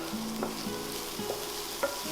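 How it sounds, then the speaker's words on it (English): Onion dropped into hot oil with mustard and fennel seeds and asafoetida, sizzling steadily with faint stirring scrapes and small popping crackles, close up. "Sprinkle a couple of pinches of asafoetida and add in the onion."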